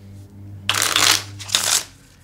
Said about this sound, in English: They're going to shuffle the cards.